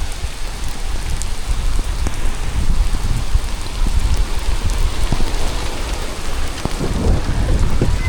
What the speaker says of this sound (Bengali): নদীর পার আসতে আসতেই বৃষ্টি শুরু হয়ে গেছে